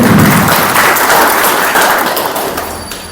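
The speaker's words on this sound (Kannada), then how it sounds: "ನಮ್ಮ ಸಮಾಜದ ಕೇಂದ್ರಬಿಂದು ಆಗಿರುವ ಮಾನ್ಯ ಚಂದ್ರಕಾಂತ್ ಬಿಜ್ಜರ್ಗಿ ಅವರಿಗೆ ಮತ್ತೊಂದು ಚಪ್ಪಾಳೆ ಹಾಕಬೇಕು" An audience at a public felicitation for Kanakashree awardee Chandrakant Bijjaragi gives loud, steady, close applause that fades slightly toward the end.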